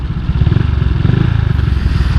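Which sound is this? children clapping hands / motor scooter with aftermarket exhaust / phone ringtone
motor scooter with aftermarket exhaust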